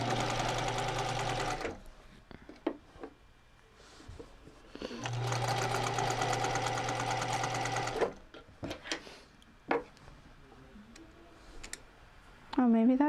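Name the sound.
sewing machine stitching a twice turned hem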